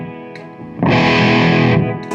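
A Les Paul electric guitar with its pickups switched to series plays through a distorted amp, a thick sustained chord swelling in loud and close after a brief quieter note, then cutting off.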